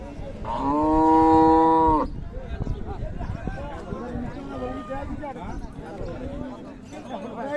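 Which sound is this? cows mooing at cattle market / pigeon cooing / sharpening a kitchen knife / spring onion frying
cows mooing at cattle market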